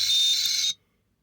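A steady, high-pitched electronic beeping alarm from a cheap Geiger counter sounds loudly for under a second, then cuts off abruptly into silence.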